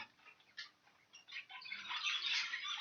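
Young birds chatter and chirp faintly inside an aviary shed, a soft high twittering that grows busier and denser toward the end.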